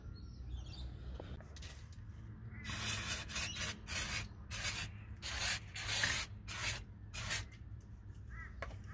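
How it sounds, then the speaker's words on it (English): A series of short bursts of brake cleaner spray on a Mercedes Sprinter rear brake, about a dozen in uneven rhythm, close and hissing, with quiet moments and faint chirps between them. "spray it down with some brake clean."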